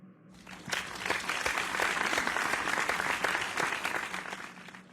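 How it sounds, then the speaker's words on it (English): Studio audience on a television talk show applauds a nervous first-time guest, a web cooking personality, with steady dense clapping that swells after a quiet start and holds loud throughout before tapering slightly. "would you make an encouraging applause to Rina?"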